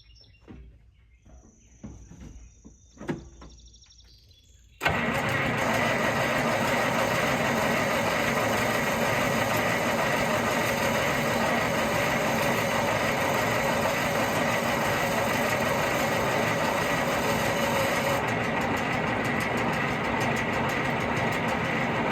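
An Allis Chalmers 7020 tractor engine turns over after a quiet stretch with birds and insects outdoors, then runs at a loud, steady idle that drones on unbroken for the rest of the time.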